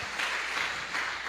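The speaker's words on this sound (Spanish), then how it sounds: "Vamos, darle un aplauso a esa realidad" Church congregation applauding during a Spanish-language worship service, a steady wash of many hands clapping at moderate level with no pauses, heard at some distance.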